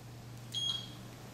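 A Gymboss interval timer sounds its alarm as one short, high-pitched electronic beep, fairly faint and alone against quiet background hiss.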